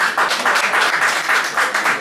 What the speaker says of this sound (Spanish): Ese aplauso para Horacio Robelli, por su memoria